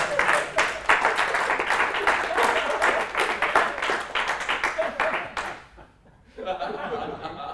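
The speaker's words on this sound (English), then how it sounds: "You can clap now, that's fine" Audience clapping and laughter at a tech conference talk, dense and sustained for several seconds before dropping off sharply, then a brief quieter stretch of crowd noise.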